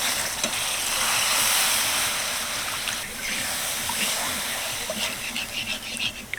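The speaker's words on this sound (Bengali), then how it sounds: "এবার আমি এর মধ্যে দিয়ে দেবো জল" Water poured into hot, oil-separated fried spice paste in a pan for a bottle gourd curry, giving a steady loud hiss and sizzle of steam that holds throughout, with some small crackles.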